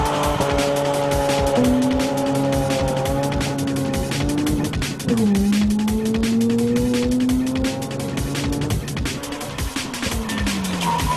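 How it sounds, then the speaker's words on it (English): A car does a burnout, its engine revving with shifting, rising pitch and tyres squealing in long sustained screeches, loud and close throughout with a brief dip before it surges again. "I can do a burnout."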